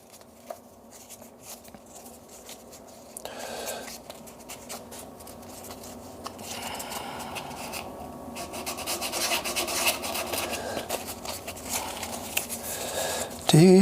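Stabilised amboyna burl shaving brush handle being sanded and buffed on a wood lathe, a steady soft rasping rub that builds gradually in loudness, with a brief louder burst at the very end.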